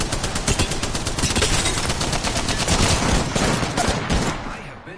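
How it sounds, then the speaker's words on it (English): Dense, rapid automatic gunfire from a video game, loud and continuous bursts overlapping for several seconds before trailing off. "Shots fired."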